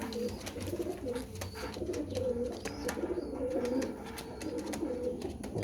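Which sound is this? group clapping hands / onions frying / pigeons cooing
pigeons cooing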